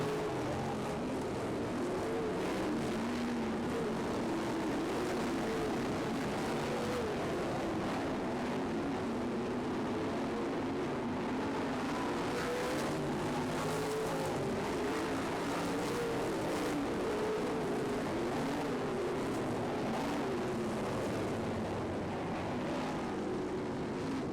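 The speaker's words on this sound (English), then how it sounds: "Hayden Johnson has to get around the slower car of Schlafer" Sprint cars race on a dirt track, their engines producing a continuous loud roar that swells and fades as the field passes, with no clear talk above the noise.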